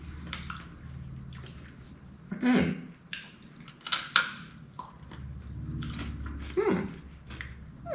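Close, crunchy chewing of crackers, with irregular loud crunches over a steady background rumble.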